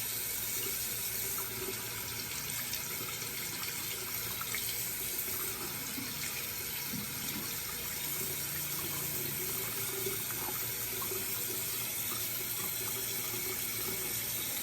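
Tap water runs steadily from a faucet into a sink while a makeup brush is rinsed and squeezed under the stream, a continuous close splashing with no talk.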